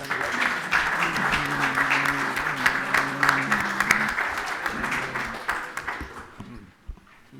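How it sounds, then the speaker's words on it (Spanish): An audience at a lecture applauds steadily for several seconds, a dense wash of clapping that fades out near the end, with faint voices underneath. "demano un aplaudiment per la seva presència"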